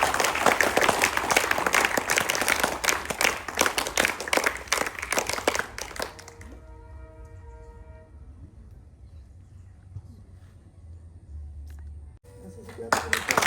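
Students at a school in Rangapara clap in a rapid, loud burst during a CBSE inspection, the applause stopping abruptly midway before a short burst resumes at the end, with voices speaking over it.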